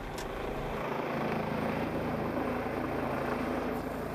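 A rescue helicopter of the Ústí nad Labem air ambulance service flies overhead, its rotor and turbine producing a loud, continuous, steady roar with a dense low chop throughout.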